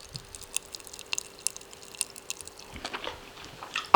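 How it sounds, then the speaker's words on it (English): Popping candy Freddo chocolate being chewed close up, with sparse faint crackles and small sharp clicks scattered through the chewing and a louder burst near the end. "I'm not sure if you could hear the popping candy then"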